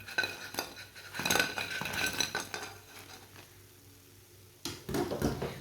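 Clinks and scrapes of a utensil against a plate as freshly fried chicken and spinach pakoras are set down, a busy burst of clatter, a quiet lull, then another round of handling near the end.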